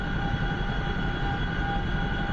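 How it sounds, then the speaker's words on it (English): A Chinook helicopter lifts off in the DCS flight simulator, its twin rotors and turbines producing a steady, dense drone with a constant tonal whine throughout. "All right, so we're pulling power. We're lifting off."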